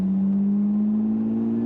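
A Lotus Emira V6 fitted with a full Valvetronic Designs titanium exhaust drones steadily from inside the cabin, a low, even tone that rises slightly in pitch without pause, with no talking.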